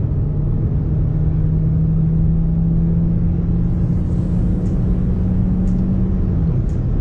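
A car engine in sport mode accelerates with a steady, loud low drone and a rising rumble that holds for several seconds before easing off, with no voices over it.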